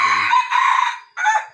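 A young rooster in Vientiane crows loudly and close, a single strained call broken by a brief gap before a short final note.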